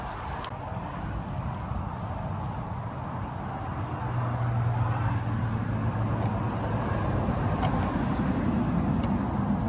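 Semi-trucks roll past a campsite at Paradise Point State Park, a continuous broadband road rumble that swells louder midway as heavier traffic draws close, with no voices.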